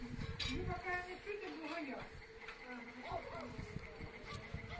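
A close, persistent buzzing of swarming midges hums around in a Ukrainian village, with people talking over it.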